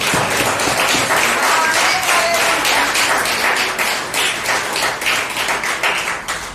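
A church congregation applauds during a sermon, a dense, loud, continuous wash of many hands clapping that thins slightly toward the end.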